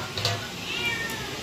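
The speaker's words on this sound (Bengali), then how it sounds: "ম্যাও ম্যাও করছো কেন?" A cat gives a single short, fairly close meow in a home kitchen where fish is about to go into hot oil.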